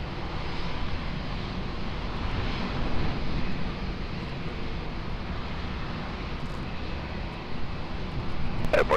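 Airliner landing on runway 20 at Lisbon Airport, a steady broadband engine roar with wind noise held at constant loudness throughout, fairly distant and unbroken, no voices.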